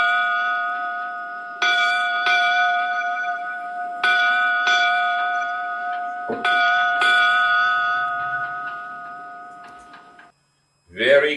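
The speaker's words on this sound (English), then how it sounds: "give us 8 bells, Davey." Eight ship's bells ring out in four close pairs, each clear metallic strike sustaining and decaying before the next pair, loud and near, ending in a brief silence and then a short burst of voice.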